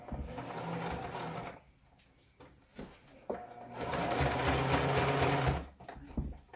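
A sewing machine stitches a t-shirt being made into a dress, running loud and steady in two long bursts separated by a pause with small handling clicks, no voices.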